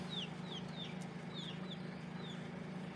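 An ailing rooster clucks in a short series of faint, repeated calls against steady outdoor background noise.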